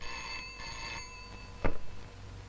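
An office telephone rings in a shrill, steady electronic trill that repeats in bursts, over a noisy room background, with a brief louder knock-like thud partway through.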